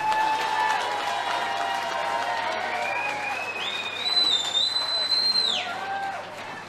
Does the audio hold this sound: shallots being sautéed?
no